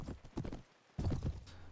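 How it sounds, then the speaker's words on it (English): Horse hooves clip-clopping up a hill in Brytenwalda, a medieval video game, in two bursts of brisk rhythmic steps broken by a short quiet gap, close and fairly loud. "we are going up a hill on a horse"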